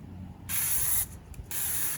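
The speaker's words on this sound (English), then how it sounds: "we're gonna spray a little vegetable oil on the" Two sustained bursts of cooking spray as vegetable oil is misted onto aluminum foil before grilling elk burgers, each hiss lasting about half a second and close to the can, separated by a short pause.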